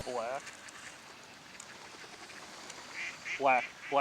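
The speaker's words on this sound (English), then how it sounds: "Black duck, and a drake." A black duck and a mallard drake quack in short raspy bursts, once near the start and twice near the end, over an outdoor background with voices.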